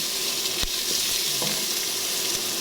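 Garlic and onion sautéing in a pan, a steady close sizzle with a couple of brief clinks and scrapes from a utensil against the pan.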